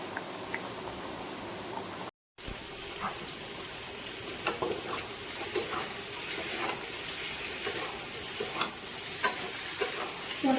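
Masala spices stir-fry in a pan for a Bengali potato, pointed gourd and prawn curry, giving a continuous soft sizzle broken by sharp clicks and scrapes of a spoon against the pan.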